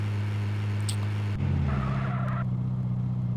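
Car engine revving up as a vehicle accelerates and drives off in the Ukrainian online game UA Online; a low steady engine drone that rises in pitch and grows louder partway through, with no speech.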